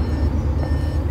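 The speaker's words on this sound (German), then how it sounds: "Da piepst du jetzt natürlich, Zündung." A Volkswagen Tiguan R-Line 2.0 sounds a steady, continuous electronic beep as the ignition is switched on, heard close and fairly loud over a low, humming background.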